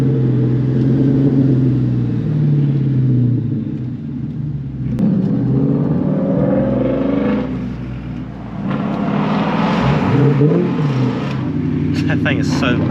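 A loud Ford Mustang S550 engine roars close by, revving continuously with swells in pitch and intensity, dipping briefly around the middle before climbing again.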